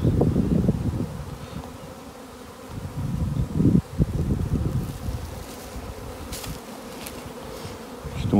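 Honeybees swarm out of their hives on a spring cleansing flight, a close, continuous buzzing drone that rises and falls as insects pass the microphone, with light wind in the background.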